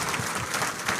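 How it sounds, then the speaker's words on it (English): An audience applauds a woman during a leadership talk, steady dense clapping filling the short moment at a moderate, even level with no voices on top. "Clap for her."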